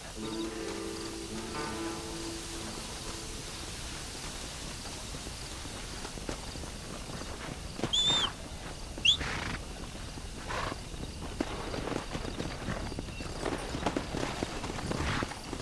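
Horse hooves clip-clop faintly in the Red Dead Redemption video game, irregular footfalls spread through a quiet ambient background with a few sharper knocks midway.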